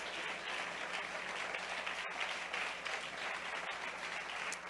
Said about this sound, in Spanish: Si ese aplauso es para alabar el nombre del Señor, hágalo, hermano